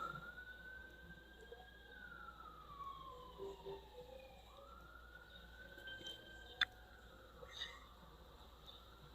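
A distant siren wails, rising and falling slowly over a faint hum of background noise, with a couple of brief clicks.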